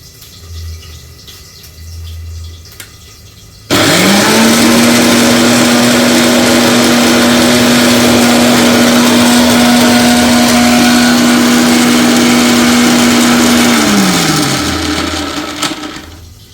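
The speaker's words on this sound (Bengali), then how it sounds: "এর জন্যে মিক্সিতে পিষে নেবো" An electric mixer grinder grinding cooked jackfruit starts abruptly and runs for about ten seconds at a loud, steady whine before spinning down. Softer kitchen sounds come before and after, and there is no talk during the grinding.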